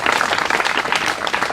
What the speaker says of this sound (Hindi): तालियां बजाओ इनके लिए जी।